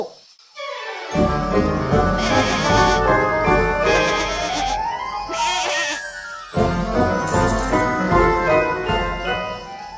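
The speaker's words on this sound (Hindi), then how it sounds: "ये जादुई बकरी है" A magical goat in a Hindi children's cartoon bleats in wavering calls, backed by tinkling jingles and music, loud and close.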